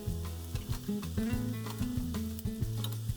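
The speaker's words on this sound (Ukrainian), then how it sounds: "Кладемо в сковорідку порізані мисливські ковбаски." Steady sizzling of sliced hunting sausages frying in a pan, close and continuous, with a faint tonal hum running underneath.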